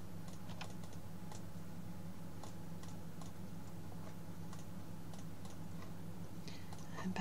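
Mouse clicks while editing in Photoshop: quiet, irregular single clicks spread across the stretch over a steady low room hum.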